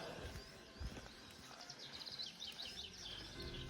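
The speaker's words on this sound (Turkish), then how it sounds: "Kuş sesleri muazzam ya." Birds chirp and sing at a creekside campsite, high bright calls repeating over a steady low background rumble, faint and moderately distant with no talking.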